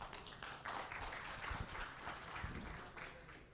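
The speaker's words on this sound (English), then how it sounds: "Give him a round of applause." Conference audience at Cleveland BSides 2012 applauding a presenter, a faint, steady patter of many hands clapping together with no voices standing out.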